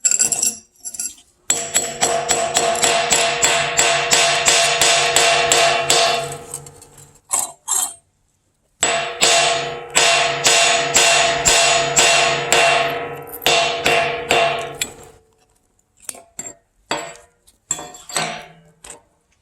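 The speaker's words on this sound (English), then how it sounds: "Now, let me get my hammer here." Rapid, repeated hammer strikes on hot scrap metal while recycling gold and computer scrap, ringing out metallically in long bursts, pausing briefly between volleys, then tapering into sparser blows near the end.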